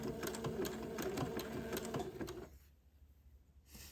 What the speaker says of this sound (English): I will zigzag going along the neck hole opening to hold this lace into place